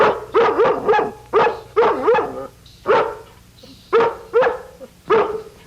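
A dog barks repeatedly nearby, about ten sharp barks in uneven bursts with short pauses between, a few sounding whiny.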